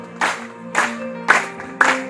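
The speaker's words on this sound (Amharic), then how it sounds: "በጭብጨባ ተቀበላቸው።" A church congregation clapping in a prison gospel service, four separate bursts of applause in a steady rhythm, fairly close and loud.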